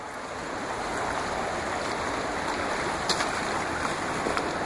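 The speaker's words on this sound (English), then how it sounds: "nice white water that washes right up in this area, and it creates a nice little natural eddy here" White water rushes steadily over cobbles and smooth stones in a shallow Indiana stream, a continuous close broadband wash with no voices.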